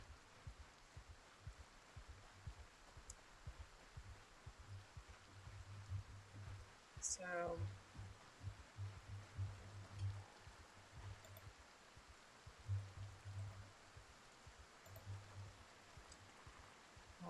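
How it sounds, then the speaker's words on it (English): Low, steady thudding pulses of a survivor's heartbeat in Project Zomboid, repeating under a constant rain-like ambient hiss, with a brief rising chirp and a short spoken word partway through. "You can hear my character's heart beating."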